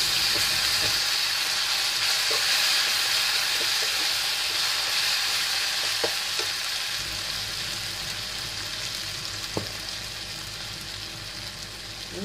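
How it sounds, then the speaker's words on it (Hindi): Ginger garlic chili paste sizzles steadily in a hot pan for a green chilli curry, a dense continuous hiss with a few soft clicks of a spoon, close and alone without talk. "इसमें डालेंगे जिंजर गार्लिक चिली पेस्ट।"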